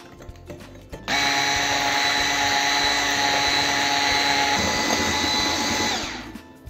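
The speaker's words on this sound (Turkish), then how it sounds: "Şöyle karıştırdıktan sonra çırpıcıyı çalıştıracağım." Electric hand mixer whisking eggs and sugar for a Nutella chocolate cake, switching on abruptly into a loud, steady whirring motor drone that holds for about five seconds before winding down.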